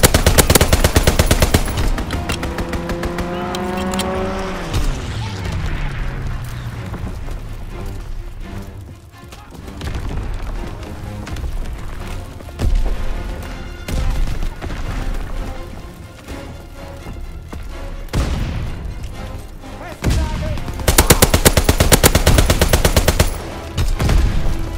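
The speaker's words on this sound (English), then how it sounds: "Enemy strafing run incoming." Strafing-run gunfire from enemy aircraft during a Call of Duty WWII team deathmatch on Pointe du Hoc: loud, sustained rattling machine-gun bursts layered with explosions and game effects, with dense gunfire returning near the end.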